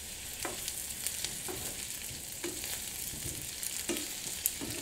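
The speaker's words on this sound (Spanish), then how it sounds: "vamos a agregar nuestras papitas para que se doren un poquito" Potatoes sizzling in a frying pan with onion, a steady hiss of hot oil with occasional scraping stirs, close and continuous.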